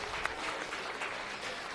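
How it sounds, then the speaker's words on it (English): Crowd applause at a starter calf show ring at a county 4-H fair for the top ten showmen in an age group: steady, moderately distant clapping sustained throughout. "Let's give them all a very nice round of applause."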